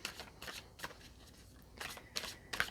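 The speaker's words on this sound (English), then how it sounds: "Let's just get another few cards out for Libra." Tarot cards being drawn and handled, giving several soft papery swishes and riffles in uneven bursts, close and fairly quiet, with no talking.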